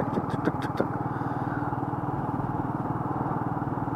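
A Royal Enfield Meteor 350 motorcycle chugs along at 29 mph in fifth gear, its single-cylinder engine thumping at a steady low rhythm, loud and close, with a few clicking clatters early on.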